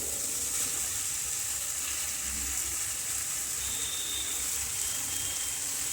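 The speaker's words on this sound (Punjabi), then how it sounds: "ਹੁਣ ਆਪਾਂ ਇੱਥੇ ਜਿਹੜੇ ਮੈਂ ਫਰਾਈ ਕੀਤੀ ਸੀ ਗੋਭੀ ਪਿਆਜ਼ ਆਲੂ ਆਪਾਂ ਇਹਨਾਂ ਨੂੰ ਪਾ ਦਵਾਂਗੇ" Fried cauliflower, onion and potato go into hot sizzling masala with macaroni for a mixed-vegetable dish; a steady, loud frying hiss runs throughout with no pauses.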